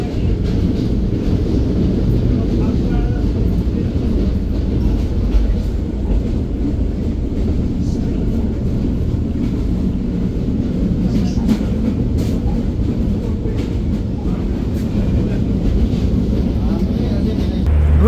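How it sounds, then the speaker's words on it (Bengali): Sagardari Express intercity train rolling into Mobarakganj railway station, a steady loud rumble of wheels and carriage noise throughout, heard from on board with faint voices mixed in. "ট্রেনটি প্রবেশ করলো মোবারকগঞ্জ রেলওয়ে স্টেশনে"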